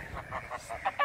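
Geese honk repeatedly in quick succession near a pond, a rhythmic series of nasal calls, fairly close and moderately loud.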